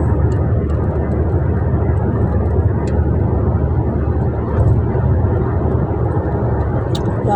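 Steady, loud airplane engine drone heard from inside the passenger cabin of a flight arriving in Dubai, a constant low roar with no break throughout.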